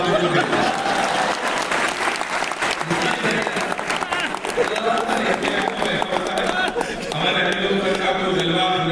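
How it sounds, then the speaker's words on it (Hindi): Sustained clapping from a live audience at a Hindi kavi sammelan poetry recital, dense and continuous throughout with the crowd's noise blended in. "तो फिर हाथ ताली बजाना"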